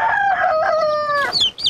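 Chickens and chicks in a coop, with a close, loud run of chick-like peeping and calls over about two seconds, with no talk.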